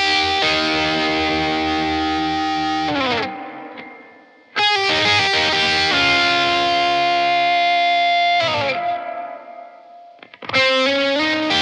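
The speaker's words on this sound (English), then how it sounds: "So with the hall setting on the Source Audio Collider, it sounds like this." Distorted electric guitar with a Source Audio Collider pedal on its hall reverb setting, playing three sustained chords that each bloom and fade into a spacious wash, loud and alone.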